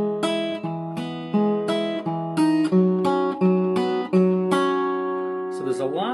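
An acoustic guitar picks a slow melodic passage from a song, plucked notes with hammer-ons ringing over a C-shape chord, close and clear, ending with a brief voice.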